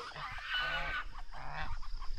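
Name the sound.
goose honking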